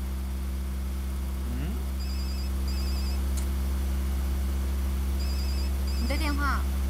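A mobile phone ringtone chimes in two short repeated electronic bursts, heard indoors in the mountains over a loud, steady engine-like hum.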